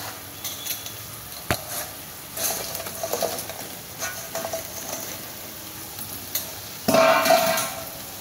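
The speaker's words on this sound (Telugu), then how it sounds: "ఇలా మనం హై ఫ్లేమ్లోనే ఈ పెరుగు మిక్చర్ మొత్తం కూడా ఈ పన్నీర్కు పట్టేంత వరకు మనం ఇలా హై ఫ్లేమ్లోనే టాస్ చేసుకుంటూ ఉండాలి." Paneer cubes coated in a yogurt mixture are tossed in a pan over high flame, giving a steady background sizzle punctuated by scraping stirs and clinks of the utensil against the pan, close and without talk.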